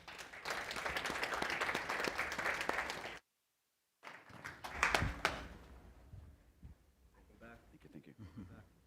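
Audience applauds to welcome two panelists to the stage at a panel on diversity, equity and accessibility, a dense steady clapping that stops abruptly, followed by brief talk and a few scattered claps.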